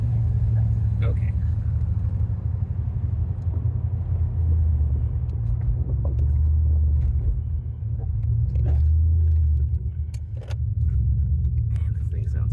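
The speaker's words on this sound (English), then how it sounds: "this thing sounds good. It's that old aluminum V8" Low steady rumble of a 1990 Corvette ZR1's LT5 aluminum V8 heard from inside the moving car, with the engine swelling and easing, a few clicks and rattles, and people talking over it.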